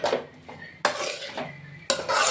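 Tomato frying in a pan for tomato thokku, with a spoon stirring and scraping against the metal in three distinct clanking strokes over a soft background sizzle.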